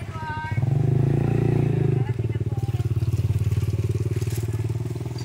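A motorcycle engine putters loudly and close by in a rapid, steady pulse as it passes, on an outing in Tanay, with voices briefly audible at the start.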